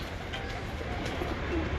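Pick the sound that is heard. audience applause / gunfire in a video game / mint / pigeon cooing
pigeon cooing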